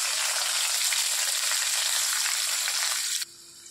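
Thinly sliced onions hit hot oil with cardamom, cloves and bay leaves for potato curry, a loud, dense, continuous sizzle heard up close that drops off sharply near the end, with no voices.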